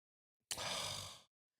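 A single person yawns up close: one long, breathy exhale lasting under a second that starts abruptly and trails off, with silence on either side.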